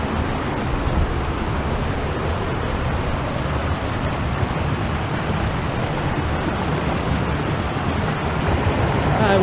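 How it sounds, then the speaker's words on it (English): A creek cascade in the Ozark National Forest, Arkansas, rushing steadily over rocks, a dense continuous wash of flowing water heard up close with no voices. "Cool cascade here."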